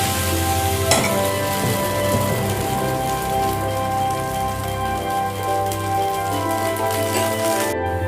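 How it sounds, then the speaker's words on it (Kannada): Millet dosa batter made from barnyard millet sizzles steadily on a hot pan, a dense, even crackle that holds without a break, with no voices. "ಈಗ ಈ ಥರ ಹಿಟ್ಟು ಹಾಕಿ ನಿಧಾನವಾಗಿ ದೋಸೆ ಹಿಟ್ಟನ್ನು ಗುಂಡಕ್ಕೆ ತಿರುಗಿಸಿ"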